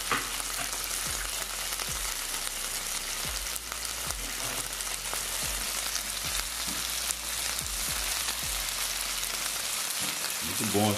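Chicken thighs and drumsticks frying in a pan with onion and bell pepper, a dense continuous sizzle with scattered crackles and soft tapping stirs, steady and close throughout.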